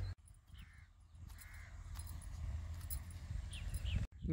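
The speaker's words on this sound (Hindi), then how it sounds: "ये ये काला कौवा जो है वेट कर रहा है" A black crow caws a few times, fairly faint, over steady low background rumble and scattered village outdoor noise.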